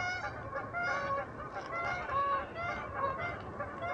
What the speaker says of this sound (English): Man, there's a lot of geese today.